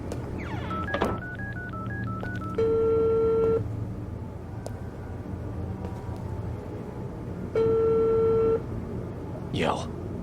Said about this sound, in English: I need to make a phone call anyway.